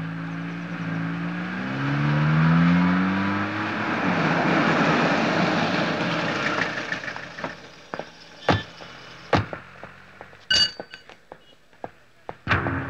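A bus engine rumbles with a steady, fairly loud drone for several seconds, then fades out. Sharp clunks and knocks follow at irregular intervals near the end.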